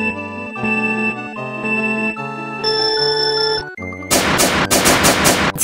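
A burst of gunfire rings out at the end, dense rapid cracks that follow sustained ringing tones from a game or cartoon scene, loud and alone with no speech.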